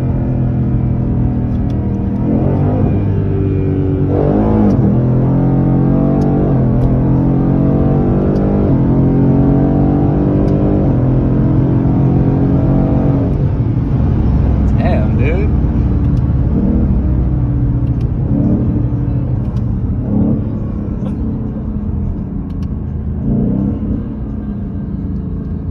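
Steady engine rumble and road noise from inside a car on a test drive fill the whole stretch, loud and continuous, with occasional swells as the engine revs.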